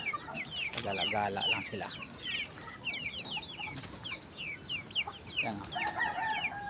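Free-range 45-day broiler chickens roam a backyard farm, clucking and calling repeatedly at close range, with someone talking over them.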